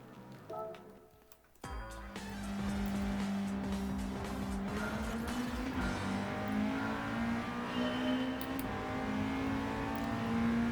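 An upgraded race car in the video game Gran Turismo 7 revs and accelerates hard, its engine tone climbing steadily and staying loud and close for several seconds after a brief quieter start, with some tire noise and no talk.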